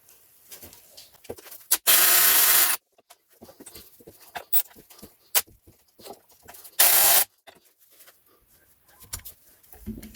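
Impact wrench on 19mm control arm bolts of a Mercedes W203 front suspension, firing in two loud sustained bursts of about a second each, separated by clanks and scraping tool sounds.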